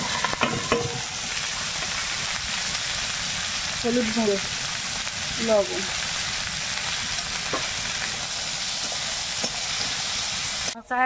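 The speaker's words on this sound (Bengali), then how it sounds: "একটু পেঁয়াজ, রসুন আর কাঁচা লঙ্কা এটা দিয়ে এই ভাজাটা চাপিয়ে দেবো" Onion, garlic and green chilli fry in a pan with a steady, close sizzle and occasional stirring clatter, while a voice speaks briefly over it.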